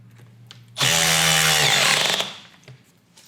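A cordless hammer drill drives a masonry screw into concrete in one loud burst of about one and a half seconds, a harsh hammering whine that rises and then spins down, with a quiet motor hum before and after.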